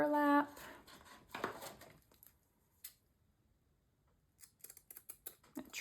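Scissors trimming the ends of burlap in a craft setting, a few crisp snips and cuts, close and fairly quiet, with a brief voice at the start and scattered handling sounds.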